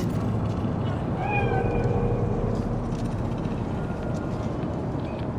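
A cat in Cyberpunk 2077 gives a few short meows midway over a steady, dense city ambience with a low rumbling hum.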